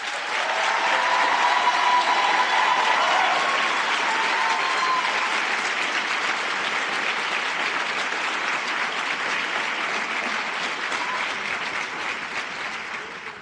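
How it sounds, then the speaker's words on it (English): Sustained, dense applause from a large audience at a nursing pinning ceremony, steady and loud for about thirteen seconds before tapering slightly at the end. "Please join me in giving them a well-deserved round of applause."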